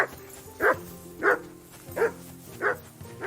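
A dog in the video game Kingdom Come: Deliverance 2 barks steadily, four evenly spaced woofs over a low background hum, fairly close and moderately loud.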